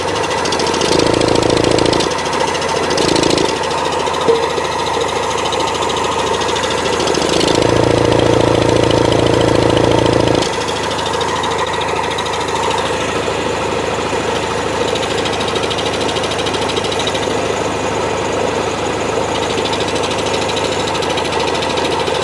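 A Yamaha CS5 motorcycle engine turns over on its electric starter in several loud, close bursts of cranking, separated by short pauses, over a steady mechanical hum.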